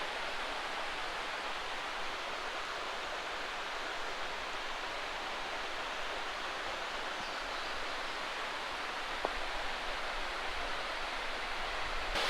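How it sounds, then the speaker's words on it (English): A waterfall at Doyles River Falls in Shenandoah National Park, in a lush green forest, pours with a steady, even roar of rushing water that fills the whole clip with no voices. "These waterfalls, pretty awesome."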